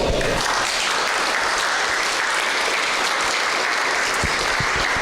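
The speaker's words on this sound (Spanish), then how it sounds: "Denle un fuerte aplauso al Rey en esta hora" A church congregation applauds loudly and steadily, dense clapping filling the whole stretch with a few sharper claps standing out near the end.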